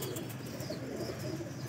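An Indian Lakhy pigeon coos softly and steadily, a low close murmur running without break under faint background hiss.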